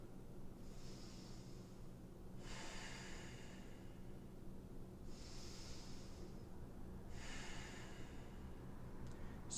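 Slow, deep breathing held during a yoga pose: four long airy breaths, inhales and exhales evenly spaced, soft and close over a quiet hiss, with no speech.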